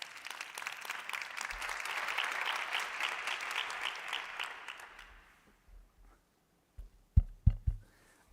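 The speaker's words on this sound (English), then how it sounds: "A big round of applause." A conference audience at a live event session breaks into applause that swells, holds steady, then fades out after about five seconds, followed by a few scattered thumps and handling bumps.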